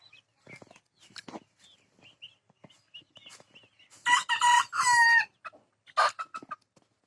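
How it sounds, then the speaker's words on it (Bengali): Outdoors, chickens give scattered soft clucks before a rooster lets out a long, loud crow close by, followed by a few sharp calls from the flock. "দেখো বাইরে চলে আসছে মুরগি, সব মুরগি।"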